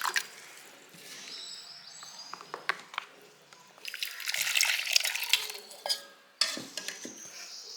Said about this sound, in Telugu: ఆ మిక్సీలోనే కొద్దిగా వాటర్ వేసేయండి